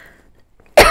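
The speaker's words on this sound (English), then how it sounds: "Having some sort of tickle in my throat or coughing" A single sharp, close cough bursts out after a near-silent pause, loud and brief at the end.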